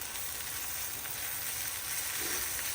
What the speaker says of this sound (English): That's frying up good.